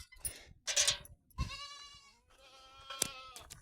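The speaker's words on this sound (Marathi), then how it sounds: "बघा गाय कशी शेळी कशी ओरडती लगेच" A goat bleats close by several times, wavering calls with short gaps between them, loud against a quiet background.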